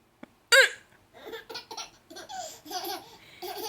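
A grandmother hiccups once, sharply and up close, then a baby breaks into a run of bright, bubbly laughter that comes in repeated bursts.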